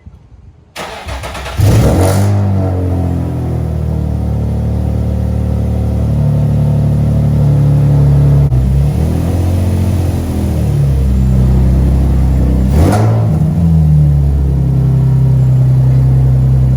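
A repaired car engine turns over and settles into a loud, close, steady running note, then revs up and back down twice, with a deep rumble underneath.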